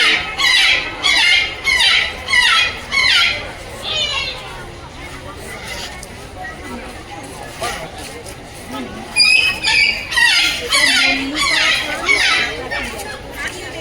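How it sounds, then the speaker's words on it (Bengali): Harsh, loud squawks from a cockatoo repeat in quick bursts, pause, then return in another rapid series, with some crowd chatter in the background. "এটা অ্যাকচুয়ালি কাকাতুয়া।"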